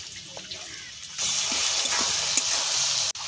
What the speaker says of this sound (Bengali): পেঁয়াজ আর চিংড়ি মাছ আমি একসাথে ভেজে নেব।